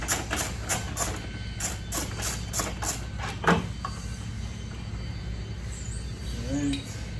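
Socket wrench ratcheting as the original horn is unbolted from a Sprinter van with a metric 13 socket, a quick run of rhythmic clicks followed by a single sharp metallic clank, then quieter handling over a steady background hum.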